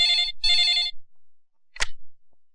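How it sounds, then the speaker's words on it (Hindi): A telephone rings twice in a short double burst, bright and close, followed by a pause and a brief thump, with no talking. "एक मिनट सर, आपका फोन।"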